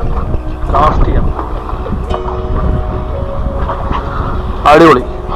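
Strong wind buffets a small boat while fishing for freshwater drum on a Canadian lake, a steady low rumble with a faint hum, broken by two short bursts of nearby voices.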